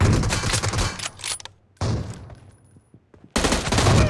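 Loud bursts of automatic gunfire in PUBG Mobile, separated by short quiet gaps, with clattering mechanical effects between volleys and no speech.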